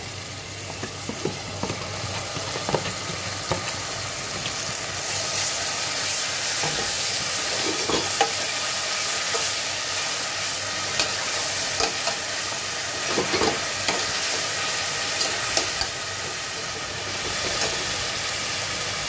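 Garlic paste frying in a pan for a fish-head muri ghonto, a continuous close sizzle and hiss with scattered spoon scrapes and crackles throughout.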